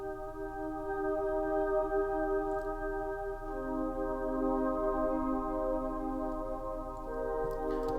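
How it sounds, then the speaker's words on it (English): A soft analogue synth chord with a chorusy, choir-like tone holds steadily, then shifts to a new voicing partway through, its volume gently swelling and dipping under automation while a faint ticking pulse runs underneath. "So it's sort of a chorusy, choral sound."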